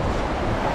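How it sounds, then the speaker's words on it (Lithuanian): Sea waves rolling onto the beach at Šventoji, a steady, continuous wash of surf mixed with wind rumble, fairly loud and close, with no voices. "Jūra banguoja"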